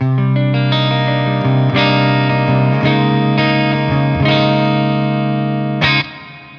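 A Keipro X-Metal electric guitar plays clean tones, sustained chords changing every second or so with clear harmonic ringing, loud and close, before the last chord is cut off and fades.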